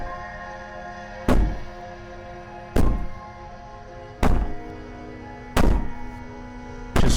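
Five heavy, evenly spaced thuds of banging in the video game Slay the Princess, each a loud booming knock against a steady background drone, with no voices.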